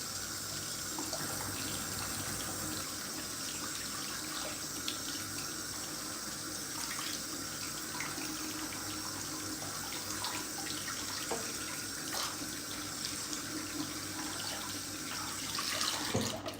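Water runs steadily from a tap while a detangler shower brush is rinsed under it, a continuous close splashing hiss with small shifting splashes, no talk.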